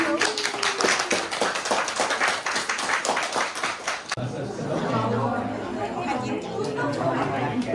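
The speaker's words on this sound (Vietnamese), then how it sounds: "Mọi người vỗ tay" Guests at a traditional Vietnamese wedding clap in quick, close claps for about four seconds, then the clapping gives way to lively crowd chatter and voices.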